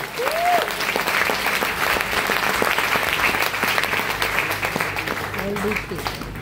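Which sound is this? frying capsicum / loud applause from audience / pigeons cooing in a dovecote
loud applause from audience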